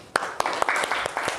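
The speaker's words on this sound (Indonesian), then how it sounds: "Oke, tepuk tangan untuk Anggi." A classroom group gives a short round of applause for a student named Anggi, a few loose, uneven claps that sound close and brief.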